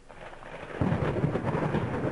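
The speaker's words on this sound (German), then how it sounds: "Und das Gewitter draußen will einfach nicht aufhören." A thunderstorm rages outside in the horror game Layers of Fear: a low rumble of thunder swells up over steady rain, dense and continuous.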